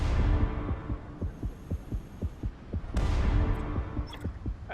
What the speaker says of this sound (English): I want that heartbeat sound to go away.